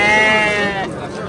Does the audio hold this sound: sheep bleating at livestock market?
yes